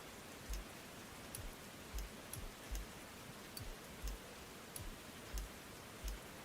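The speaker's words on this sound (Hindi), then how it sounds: "बारिश भी हो रही है।" Light rain falls outside during a drive, a faint, steady hiss with soft ticks recurring about every second and no voices.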